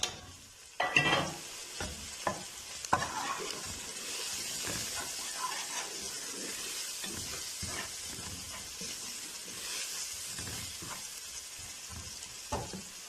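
Onion with salt, red chili and turmeric sizzles and fries in a pot, with steady hissing and repeated stirring scrapes and clinks, close and alone without talk.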